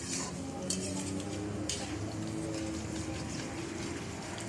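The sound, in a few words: chopped onions frying in oil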